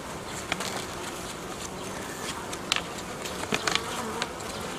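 Honeybees at a nucleus colony hum in a steady, dense drone, with individual bees flicking close past at moments over the continuous buzz; no voices.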